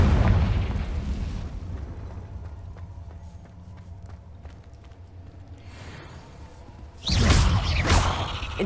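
Confringo explosive spell blasts in the video game Hogwarts Legacy, a rumbling blast fading away, then a second loud booming explosion erupting near the end.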